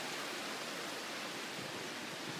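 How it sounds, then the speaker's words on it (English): Creek water flowing outdoors, a steady soft hiss and gurgle with no pauses and no voices. "This is the creek where I like to come out and sit."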